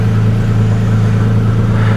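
A cold Porsche 911 GT3 997 with a flat-six boxer engine and 54,000 km on the clock runs steadily at idle, a loud, close, even burble with no rise in revs and no voices.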